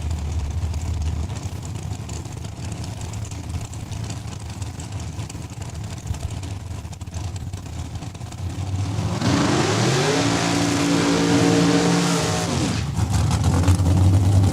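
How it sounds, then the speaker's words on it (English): Drag racing cars roar at a raceway as the engines rev hard to warm up the rear tires; the engine note climbs and swells loud in the final five seconds over a steady crowd-and-track background. "we got Travis McBain with Jamie Fiesel warming up the rear tires"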